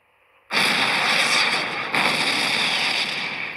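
A battlecruiser's guns fire in a World War Battleship game, a sudden loud sustained blast of rumbling, noisy fire with a second surge midway, filling the rest of the clip.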